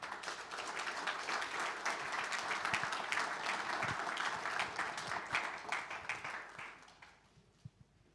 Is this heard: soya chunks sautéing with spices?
no